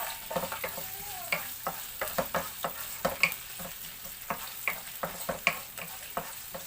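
Ginger sizzling in hot cooking oil in a pan, with repeated sharp scrapes and clacks of a stirring utensil over a steady frying hiss, close and fairly loud.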